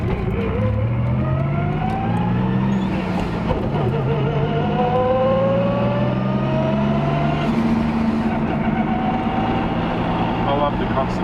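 A car engine with a G-Force T5 transmission revs up and down through rising and falling pitches while driving, loud and close, with voices talking over it.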